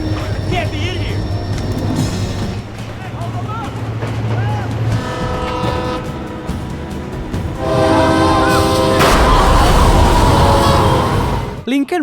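A train barrels toward a police blockade, a low engine drone and rumble building to a loud blaring horn and heavy roaring impact noise, mixed with dramatic film sound.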